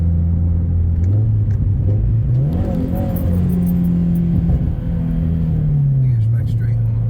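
A turbocharged FRS engine burbling as it accelerates through the gears, a deep droning rumble that rises and shifts in pitch, heard from inside the car while people talk over it.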